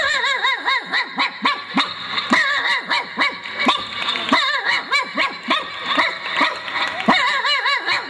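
A man on a comedy stage imitates a native street dog barking, producing a rapid run of loud, rhythmic yaps and yelps that carry on without pause.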